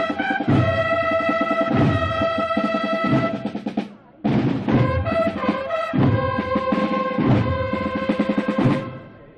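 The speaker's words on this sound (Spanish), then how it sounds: "Son bandas con tambores, cornetas, trompetas." Holy Week procession band in Spain with drums, cornets and trumpets, playing a loud brassy march with steady drum beats, a brief pause partway through, then resuming before fading at the end.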